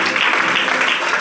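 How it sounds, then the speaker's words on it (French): A church congregation breaks into dense, continuous applause for the Lord, a steady wash of many hands clapping at once with no pauses, fairly loud and close. "Continue d'acclamer le Seigneur bien-aimé."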